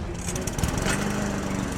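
Small motorbike engine with a buzzy, lawn-mower-like drone during a chase, running steady and fairly loud throughout with a rough, rattling texture.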